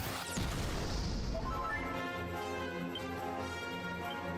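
A Kaboom explosion spell goes off in a video game with one loud crashing burst that decays into a long ringing, shimmering tail.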